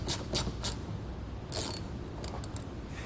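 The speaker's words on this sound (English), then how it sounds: "We just want to replace the factory screws that we took out and just re-screw them back in place." A hand ratchet clicks in short runs while factory screws are driven back in to fit WeatherTech mud flaps on a 2020 vehicle, quiet and close with brief pauses between bursts.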